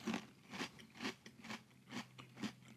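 Super Mario cereal with marshmallows and milk being chewed close up, six steady crunchy bites in an even rhythm with no talking.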